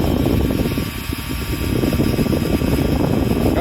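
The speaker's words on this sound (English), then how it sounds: "Let's put my heat gun on the cold setting." A heat gun running on its cold setting blows a steady, loud broadband rush of air, aimed at an Onan engine's auto choke, with no one speaking over it.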